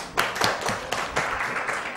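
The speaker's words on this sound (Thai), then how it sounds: "ปรบมือเพื่อนน้อย" Classmates in a Thai-language lesson give a short burst of scattered hand clapping for a student, a brief patter of claps from a small group.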